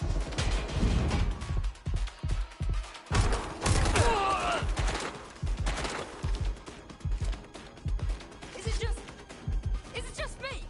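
Gunfire in the video game Watch Dogs Legion: repeated sharp shots and bursts come in clusters with thuds and impacts, loud and close, as game voices call out between volleys.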